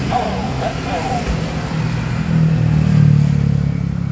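A motorcycle fitted with a two-way alarm starts up and settles into a low idle, its engine note rising slightly near the end, loud and close.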